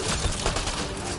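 Burst-fire assault rifle in the video game Mass Effect Andromeda, a quick cluster of loud, close gunshots cracking in rapid succession over dense game noise.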